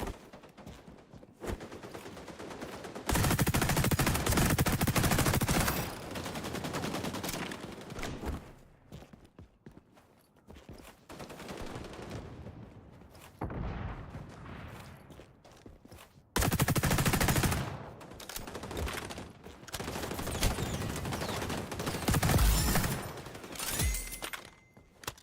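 Automatic turrets firing in the online shooter XDefiant, bursts of rapid gunfire erupting loudly in several long volleys with quieter stretches between them.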